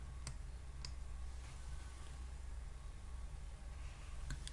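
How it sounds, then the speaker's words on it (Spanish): A few faint computer mouse clicks, spaced apart, right-clicking to run a file in a programming editor, sounding over a steady low room hum. "Hago clic derecho y pongo ejecutar archivo"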